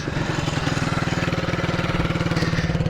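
A 1970s Honda CB125 motorcycle engine idles close by with a steady, rapid pulsing chug, running on its own without talk.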